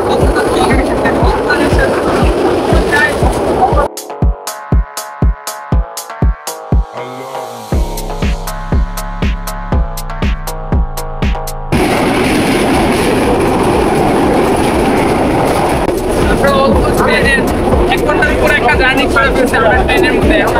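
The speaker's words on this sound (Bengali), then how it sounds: "ট্রেন জার্নি করতে আসি আমি শুনতেছি যে চিটাগং এসে পড়তেছি" A passenger train runs along the rails toward Chittagong, its loud steady rumble broken by a middle stretch of sharp rhythmic clacks and a harsh tonal drone, with talk mixed in.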